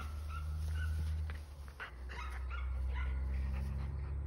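Sheepadoodle puppy, an F1B mini or medium, whimpering with short yips, close by over a steady low background hum, no talking.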